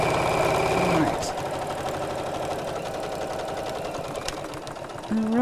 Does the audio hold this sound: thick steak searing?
no